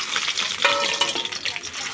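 Ground vetkul leaf paste fries in oil over low heat and is stirred steadily, giving a continuous close, bright sizzle with scraping stir strokes throughout.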